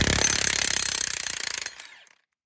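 A 3/4-inch impact gun fitted with a 1/2-inch adapter hammers on a track link bolt, its rapid rattling blows loud and close, then slowing and stopping abruptly.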